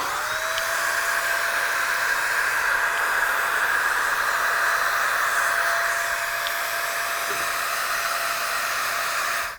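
A Wagner power paint sprayer runs continuously while spraying paint on a brick house, a loud, steady airy hiss with a faint motor whine that cuts off at the very end.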